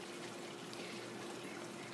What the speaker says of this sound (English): You can submerge it in a bowl like this or just pour water over it